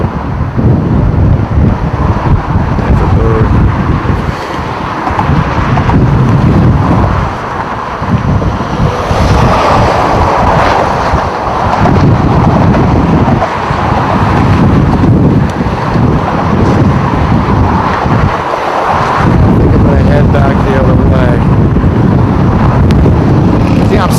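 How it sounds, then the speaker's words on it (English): Strong wind buffets the microphone in continuous loud roaring gusts outdoors near a railing, with brief dips in between and a faint voice now and then. "It is seriously windy."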